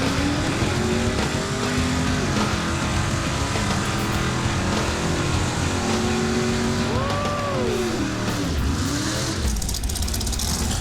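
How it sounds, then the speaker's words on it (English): Blown 1969 Dodge Dart drag car doing a burnout at a drag strip, a loud continuous engine roar with shifting pitch sweeps and tire noise, heard alone without talk. "There is a burnout."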